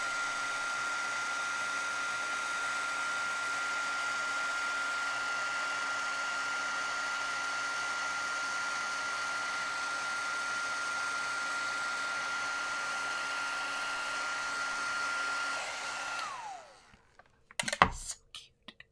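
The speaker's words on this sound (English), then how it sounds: "Let me get my heat tool warmed up" A heat tool blows steadily for about sixteen seconds while warming up to melt embossing powder on a handmade spinner card, a constant close airy whoosh with a fixed motor tone, then switches off and a few handling knocks follow.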